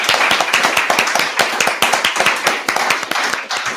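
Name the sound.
audience applause at graduation showcase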